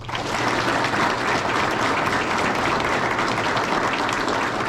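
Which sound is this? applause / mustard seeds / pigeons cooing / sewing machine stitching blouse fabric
applause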